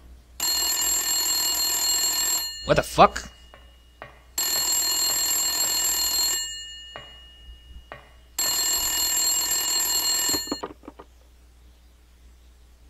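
Telephones ringing on a table in the Silent Hill video game: three loud, shrill electronic ring bursts, each about two seconds long, with short gaps between them. A man swears briefly after the first ring.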